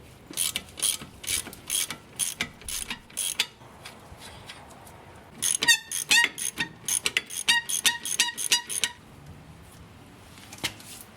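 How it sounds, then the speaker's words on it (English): A hand ratchet loosens the main strut-to-knuckle bolts on a Volvo 850 front suspension, clicking in repeated short bursts of sharp pawl ticks, close and fairly quiet, with no talking. "First, we're going to start by loosening up the main strut to knuckle bolts."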